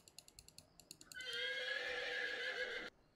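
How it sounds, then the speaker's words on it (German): A horse in the Bibi und Tina tournament stables video game first clip-clops in a quick run of hoofbeats, then lets out one loud, drawn-out whinny lasting nearly two seconds before cutting off. "Hier sind also die Pferde der Turnierteilnehmer untergebracht."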